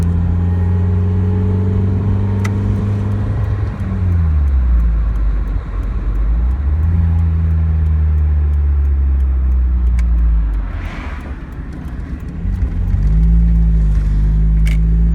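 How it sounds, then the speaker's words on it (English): A 1990 Mazda Miata engine revs up and down repeatedly, rising and falling in pitch through several gear pulls, loud and close with a deep exhaust rumble. "this is an iconic car. I would say probably Mazda's best creation."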